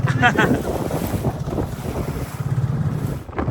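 Boats on the water at a river island fiesta in Hagonoy, Bulacan, with a steady outboard engine drone and strong wind buffeting the microphone, faint voices underneath.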